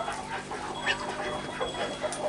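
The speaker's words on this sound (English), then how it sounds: "you might get a kick out of watching the chickens gobble it up" Chickens cluck and chatter softly while gobbling up seaweed at a desert homestead, a steady close murmur of bird calls with no voices.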